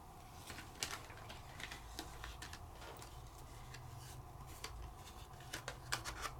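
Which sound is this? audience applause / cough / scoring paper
scoring paper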